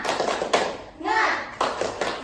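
Several bursts of a school class clapping in a quick rhythmic pattern, separated by a voice speaking Indonesian in the middle.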